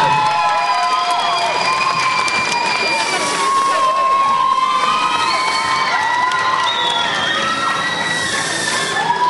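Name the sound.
audience applause and cheering for a contestant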